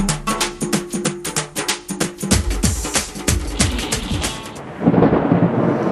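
Thunder rolls from a thunderstorm overhead during the first rain of a road trip, a series of deep rumbling booms with a heavy crack near the end.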